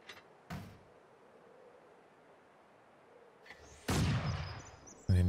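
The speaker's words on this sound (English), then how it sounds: "Now it should fire 4 shells." Aussie mortar firing shells in Company of Heroes 2, a few sharp launch thumps spaced across a quiet stretch, the loudest near the end with longer rumbling tails.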